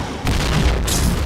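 Grenade explosion in a video game shooter: a loud, broad boom bursts in after a brief lull and rumbles on for about a second, with a second surge of hiss near the end.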